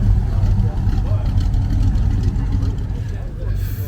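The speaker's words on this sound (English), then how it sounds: "Got a 66 Chevelle, sounding good." 1966 Chevrolet Chevelle with a lopey cam at a classic car gathering, a deep, loud low-end engine rumble pulsing unevenly close by, with people talking faintly over it.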